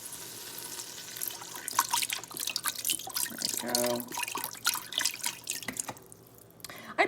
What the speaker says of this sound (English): we're going to take some chicken stock, chicken broth, and we're actually going to pour it in